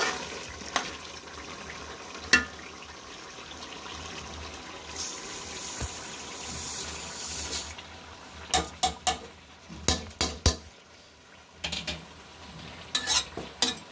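Rice and biryani masala are stirred in a pot for chicken biryani. A spoon scrapes and clatters against the pot in quick irregular strokes, close by, with no voices.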